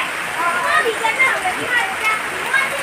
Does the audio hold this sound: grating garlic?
no